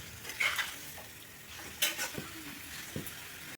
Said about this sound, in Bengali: এখানে লো টু মিডিয়াম ফ্লেমে আস্তে আস্তে কষাতে হবে